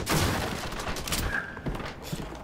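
A shotgun fires in Resident Evil 6, a loud close blast followed by its decaying boom, with dense game noise filling the short moment.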